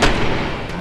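Gunfire in the Arma Altis Life video game, a loud booming shot filling the clip with a second sharp blast near the end, close and harsh.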